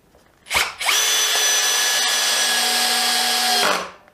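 A Hitachi DV18DBFL2 cordless drill whines steadily for about three seconds after a brief start, driving into wood, loud and close with a constant motor pitch before spinning down.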